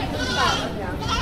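Goats bleat at a livestock market, a short wavering cry heard under close conversation.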